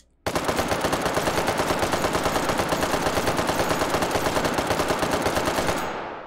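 A futuristic bullpup Bren-type machine gun in a VR shooting game fires one long, loud, close burst of rapid, evenly spaced shots lasting about six seconds, then stops abruptly with a short fading tail.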